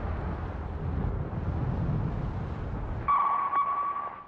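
A single sharp ASDIC sonar ping rings out with a steady tone after a stretch of low rumbling noise, clear and fairly loud.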